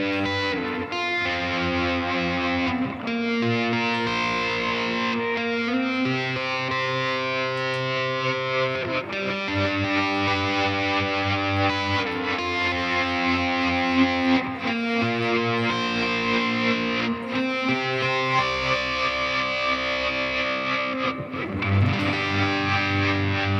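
Gretsch electric guitar runs through a reverb whose opening is swept by an MS-20's LFO and sample-and-hold, playing sustained chords in a thick, washy, pulsing wall of sound that continues without pause, loud, with no speech.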